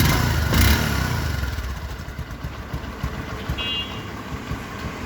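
A Bajaj Discover 125 motorcycle engine idles steadily nearby with a low, even putter, briefly louder at the start, plus a short electronic beep.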